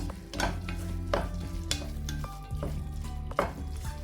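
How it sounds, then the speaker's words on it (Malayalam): Spoon stirring through carrot and a crumbled chicken cube in a pan of chicken oats soup, with a steady low sizzle under repeated scraping strokes at a moderate, even pace. "എല്ലാം ചേർത്തിട്ട് നന്നായി മിക്സ് ചെയ്തെടുക്കുക"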